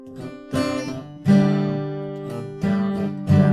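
An acoustic guitar strums a four-chord sequence with a hammer-on, with loud, sharp chord attacks at irregular spacing that ring out between strums.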